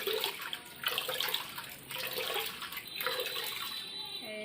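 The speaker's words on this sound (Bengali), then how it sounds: "এই যে চাল ধুতেছি, এখন ভাত বসাবো।" Rice being washed by hand in water, repeated swishing and sloshing bursts in a loose rhythm, fairly quiet and with no voices.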